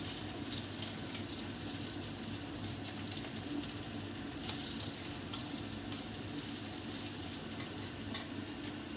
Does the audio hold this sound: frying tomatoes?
yes